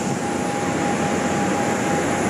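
Steady, broad engine roar with a faint high whine, constant and close, like a Thai Lion Air airliner idling on the runway at a Thailand airport.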